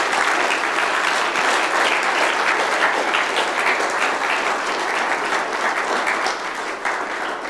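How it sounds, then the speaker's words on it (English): A large audience applauds all the speakers at the closing of a conference, a thick, continuous wash of clapping that stays loud and even before easing slightly at the very end. "a round of applause for all the speakers"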